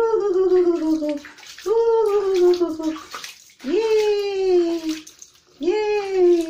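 Water runs steadily during a dog's bath, close and constant, while the dog gives repeated loud, falling whines over it.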